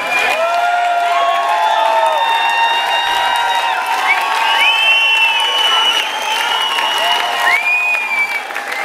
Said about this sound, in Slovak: Vážení, nepreháňajte to s tým potleskom.